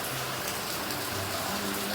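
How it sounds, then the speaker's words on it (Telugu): Heavy rain pours down steadily and evenly, a dense close hiss of drops on surfaces that fills the whole stretch without a break. "చాలా వర్షం స్టార్ట్ అయింది."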